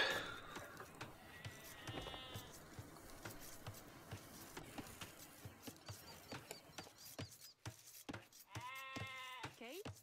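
Sheep in a medieval strategy game bleat in short, bright bursts, one early and another near the end. Game clicks and effects sound throughout, with commentators talking in between.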